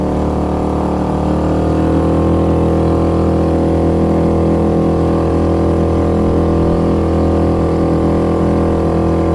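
Small 2.3hp four-stroke petrol outboard pushing a tender, a constant close hum holding steady pitch for several seconds, alone without talk.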